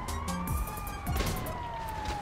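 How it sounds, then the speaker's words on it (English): A wailing electronic ambulance siren from the GTA 5 video game sweeps steadily up and down, fairly close, over low rumbling game noise and brief thumps. "that's an ambulance, bro"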